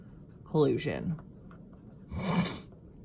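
A pen or pencil scratches out a word on a paper worksheet in a short, close, raspy burst. It is preceded by a brief vocal sound.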